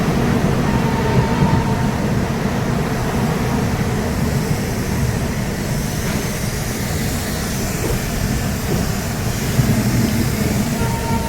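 The Ranchi–Howrah Shatabdi Express running on its route, a loud, continuous low rumble and rush of wheels and carriage noise that holds steady throughout, with no voices.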